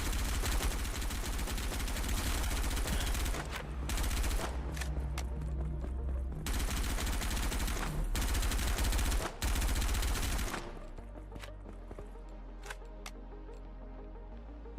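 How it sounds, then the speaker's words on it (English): Rapid automatic gunfire and explosions from a multiplayer shooter video game, loud and dense bursts for about ten seconds before cutting to quieter scattered shots. "that was definitely both of them shooting at me"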